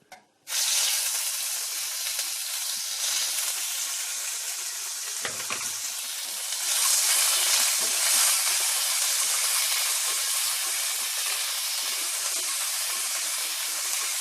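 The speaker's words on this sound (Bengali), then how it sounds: "প্রথমে দিলাম তেজপাতা তারপরে দিলাম গোটা গরম মশলা" Bay leaf and whole garam masala sizzle in hot oil, a loud, continuous close hiss that bursts in as the spices hit the pan and swells briefly midway, with no talk over it.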